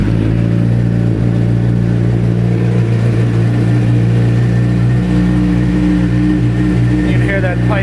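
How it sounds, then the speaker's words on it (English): A 2007 Suzuki GSX-R600 sport bike idles loudly with a deep, continuous exhaust rumble, close up for several seconds while someone talks over it. "That pipe, it's got a real nice rumble to it."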